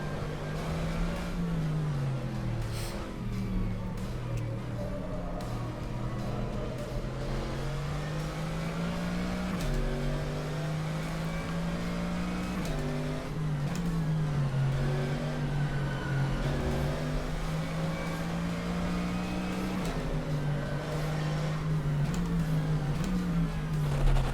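A Mercedes AMG GT3 race car engine in the rFactor 2 racing game at Circuit Zandvoort revs continuously, its pitch rising and falling through gear changes, loud and steady throughout with no talk.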